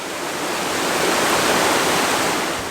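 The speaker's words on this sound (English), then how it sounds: "There's waterfalls and streams and bubbling brooks" Waterfalls and streams rush through a countryside park in Fukui, Japan, a loud, dense, steady hiss of falling water that swells slightly and then eases.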